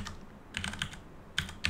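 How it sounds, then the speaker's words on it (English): Someone types the ping command on a computer keyboard in a command prompt: a short quick cluster of keystrokes, then two separate taps, fairly close and quiet. "Simply open the command prompt and type in ping."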